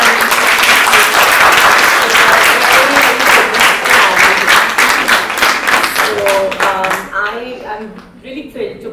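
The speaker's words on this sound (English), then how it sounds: "we should all give her a round of applause" An audience at a women's football conference panel applauds a panelist representing India, a loud sustained round of clapping that slowly thins out, with voices emerging as it fades.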